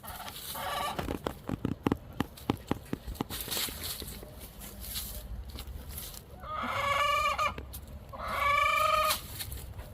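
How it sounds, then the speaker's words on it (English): Wyandotte hen clucking after laying an egg, a series of quick sharp clucks followed by two drawn-out loud cackling calls, close by in a backyard flock with faint ambient noise. "Sounds like a hen might have laid us an egg"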